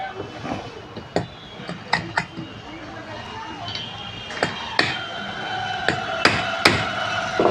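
A big hammer strikes a pin during repair of a ceiling fan motor that jams when powered, a series of sharp, loud metallic clanks at irregular intervals while someone talks between them.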